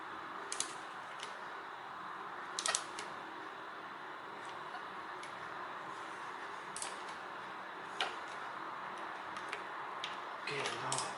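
A Toyota Camry automatic transmission oil filter part snaps into place: a few sharp, small clicks spaced apart over a steady, quiet background hiss.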